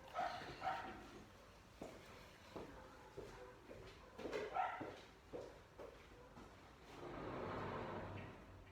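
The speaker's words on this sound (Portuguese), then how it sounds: "Tem um cachorro chato latindo aqui na rua" A dog barks outside on a street, a few faint, distant yaps scattered over a quiet indoor background, followed by a soft rush of wind or traffic.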